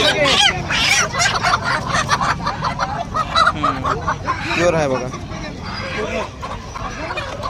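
Kadaknath roosters and other poultry squawk and cluck up close among people talking at a village market, busy and uneven with overlapping bird calls.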